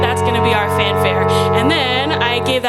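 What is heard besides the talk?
None of the usual background noises is heard.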